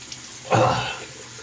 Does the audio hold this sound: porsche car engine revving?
no